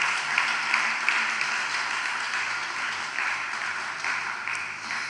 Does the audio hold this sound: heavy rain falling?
no